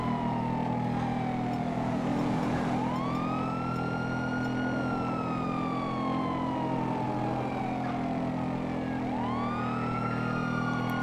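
A wailing police siren in Grand Theft Auto 5 sweeps up and down repeatedly over a steady low engine drone during a highway pursuit, loud and continuous with no talking.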